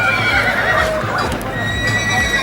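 A Marwari horse neighs at close range, a brief whinny rising over steady outdoor background noise, with people talking throughout.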